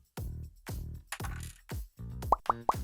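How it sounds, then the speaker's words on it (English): A spudger pries the rubber feet off a PlayStation 2 Slim console, giving a close, quiet series of soft hollow plops followed by three small sharp pops in quick succession. "Using a spudger, pry up the 6 feet"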